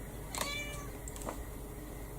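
A house cat meows faintly in the background, one short call followed by a softer second one, over steady room hiss with no talking.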